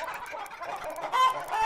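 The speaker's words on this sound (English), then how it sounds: "That's a lot of chickens." A flock of chickens on a video game farm clucks in short, overlapping bursts, close and moderately loud, with a louder squawk near the end.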